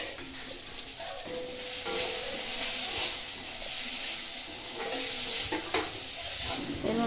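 A pot of fish curry broth bubbling at a steady boil on a village kitchen stove, with a continuous hissing, sizzling wash and occasional stirring clinks, fairly close and moderately loud.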